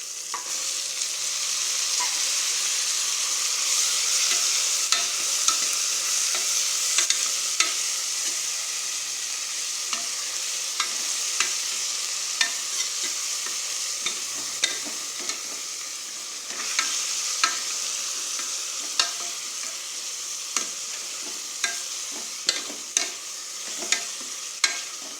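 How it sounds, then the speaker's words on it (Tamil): Mutton pieces fry with onion and tomato for a Tamil mutton kuzhambu, a steady close sizzle broken by repeated sharp scrapes and knocks of stirring, with no talk. "இப்போ நம்ம எடுத்து வச்சுருக்கிற மட்டன் பீஸை அதுக்குள்ளே போட்டு நல்லா வணக்கிக்கலாம்."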